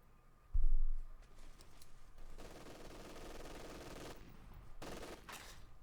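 An MG42 machine gun in Company of Heroes 2 opens with a loud, close burst, then settles into sustained rapid fire that continues through most of the clip, with brief pauses near the end.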